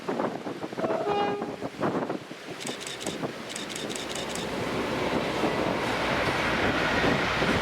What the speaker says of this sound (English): we see 5Z68, the 1413 West Coast Private Charter to Glenfinnan from Carnforth with 57601